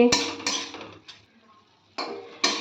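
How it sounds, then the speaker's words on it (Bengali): A metal lid comes off a cooking pot of simmering greens and potatoes with fish head, giving a sharp clank, several lighter clinks and a faint scrape, then two more close metallic knocks. "এবার আমি ঢাকাটা তুলে দেখে নেব কেমন হয়েছে"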